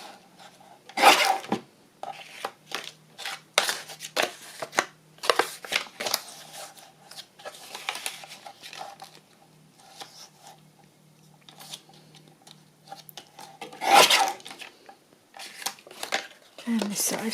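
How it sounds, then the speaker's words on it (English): Paper being trimmed for a hinged journal: intermittent scraping, rasping cuts and rustling handling noises, some louder strokes and papery shuffles, close up, with a person speaking at points throughout. "I'm just going to trim off"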